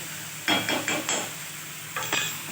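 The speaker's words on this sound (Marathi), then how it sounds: "चांगला कांदा लाल व्हायचा, ही काढली साईडला आपली भाजतायत." Sliced onion frying in hot oil in a pan while cooking a bitter gourd dish, with several bursts of sizzling and stirring scrapes in quick succession, close and fairly loud.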